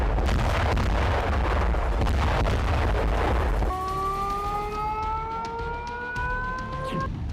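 A Ukrainian strike on a Russian radio station in Belgorod sends a heavy, sustained blast roar for several seconds, then cuts to a wailing siren with rising tones and scattered distant bangs.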